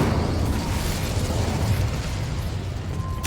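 Incendio fire spell cast in Hogwarts Legacy, a continuous roaring, crackling whoosh of flame held at steady loudness, ending with a brief bright flick.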